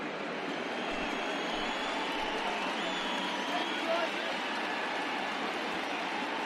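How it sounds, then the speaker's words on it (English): Yankees fans on their feet at a Chicago White Sox at New York Yankees baseball game, a steady, dense crowd roar and cheering that holds evenly throughout with a general hubbub of voices. "Yankees fans on their feet cheering on Cole."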